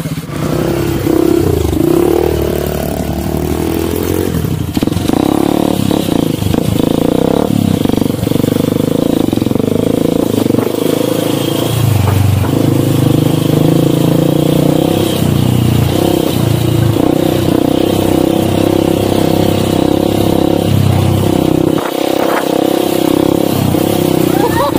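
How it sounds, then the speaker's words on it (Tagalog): A motorcycle engine idles and revs loudly nearby for a long stretch, with rattling and clattering mixed in and occasional voices underneath. "Si Sir Dennis, niyuyug-yug ko malaman yung motor."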